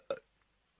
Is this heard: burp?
yes